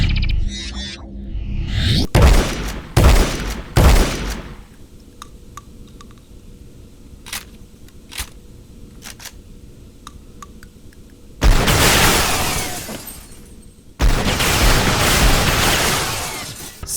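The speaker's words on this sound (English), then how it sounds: "Each shot from the scattergun is punchy and weighty, with the additional alt-fire mixing up play nicely." A scattergun shotgun fires in the first-person shooter game Sin Episodes, with several loud, booming blasts close together, sharper clicks and mechanical clacks between them, and longer roaring explosive bursts near the end.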